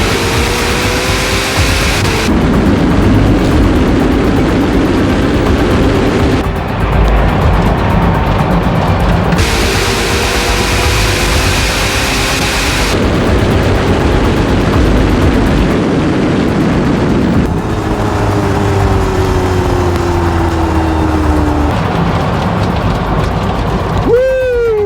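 Two hypercars, a 1,914 hp Rimac Nevera electric car and a Ferrari SF90, race on an airstrip, a loud steady roar of drivetrain and wind noise rising in pitch under sustained rushing noise, with speech over it.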